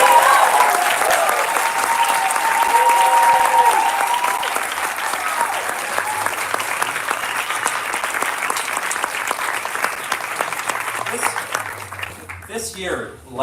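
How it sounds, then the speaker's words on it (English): A graduation ceremony crowd gives a sustained round of applause for the graduating class, loud and steady clapping that thins and fades toward the end, with a few voices underneath. "Can I get another round of applause for this great group?"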